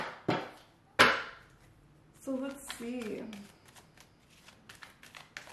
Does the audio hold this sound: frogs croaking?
no